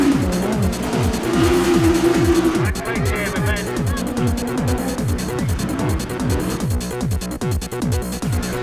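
Autograss race cars tear around a dirt track, engines loud and close with repeated rising and falling revs as they pass one after another, tyres skidding on the loose surface throughout.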